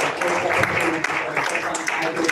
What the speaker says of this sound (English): Let's give a round of applause, everyone.